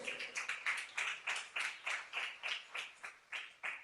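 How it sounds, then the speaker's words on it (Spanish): A church congregation claps together in a steady, rhythmic beat, about three claps a second, as an offering of praise during an anniversary service, moderately quiet and without talk. "Denle una ofrenda de palmas a Él."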